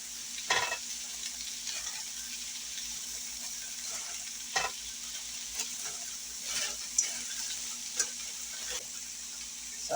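Ground beef fries in a pan on medium heat, giving a steady hiss of sizzling fat with scattered pops and the occasional scrape of stirring, moderately quiet and close, with no talking.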